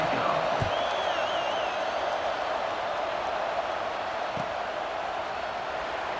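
Stadium crowd in the EA Sports College Football 26 video game gives off a steady, distant roar at moderate level, with a thin whistle briefly rising above it early on.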